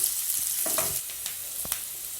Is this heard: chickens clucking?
no